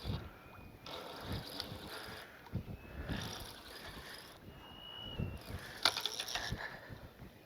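Fishing reel drag clicking in rapid ratcheting bursts as line pulls out on a sea fishing pier, several separate runs of clicks, faint and close, with wind and shore noise behind.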